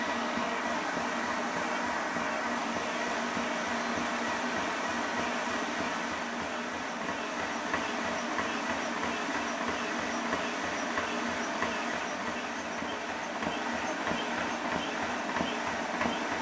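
A JTS Comp100 airgun compressor fills an Air Venturi Avenge X 400cc air bottle, giving a steady, loud mechanical drone with a fast rhythmic pulsing beneath it that runs unbroken throughout, with no voices.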